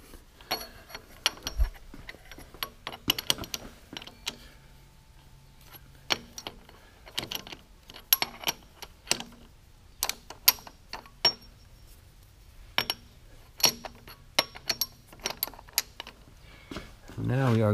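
A milling machine table is loosened and rotated, giving scattered metallic clicks, clunks and ratchety knocks at irregular intervals over a quiet shop background, ending in a brief low rumble.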